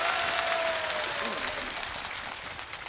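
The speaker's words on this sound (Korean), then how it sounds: "박수로 모시기 바랍니다." Studio audience applause welcoming a contestant onto the stage at a televised national singing contest in Suyeong-gu, Busan, steady and moderately distant, slowly fading with a faint tone under it.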